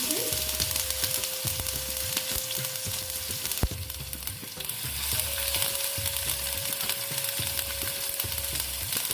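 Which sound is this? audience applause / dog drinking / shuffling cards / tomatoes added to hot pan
tomatoes added to hot pan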